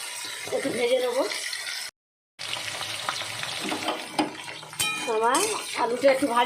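Potato pieces fry in oil with green chillies and five-spice, a continuous close sizzle broken by a short silent cut, with scraping spoon-on-pan stirring and someone talking over it.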